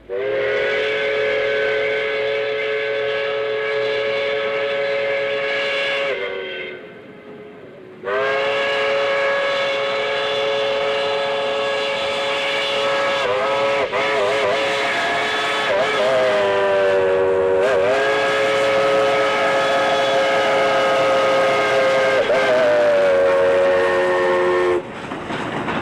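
Steam locomotive 4501 blows its whistle in long, loud, chime-like blasts over the rumble of the running train, with short breaks between the sustained tones.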